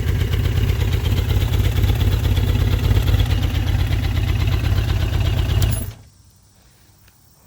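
A 1986 Yamaha FJ1200 motorcycle engine, said to need carburetor tuning, runs loud and close with a steady, rapid pulsing roar for about six seconds, then cuts off into near silence.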